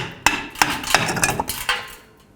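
A tool knocks and clanks on a 1999-2007 GMC Sierra parking brake shoe while prying it out of its retainer, giving five sharp metallic hits in a quick uneven run, close by.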